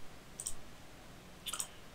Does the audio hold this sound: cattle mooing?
no